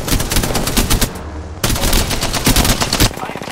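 Rapid automatic gunfire in a video game shooter, loud dense bursts of shots with a brief pause in the middle before the firing resumes, close and harsh.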